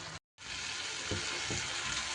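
Spices being sautéed in oil for a vegetarian banana stem curry make a faint, steady frying hiss after a brief cut to silence, with a couple of soft stirring knocks, nothing spoken.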